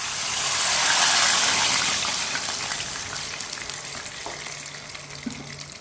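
Sugar and water pour into hot oil in a pan while making seviyan, giving a loud rushing sizzle that peaks early and then settles into a softer, steady bubbling hiss.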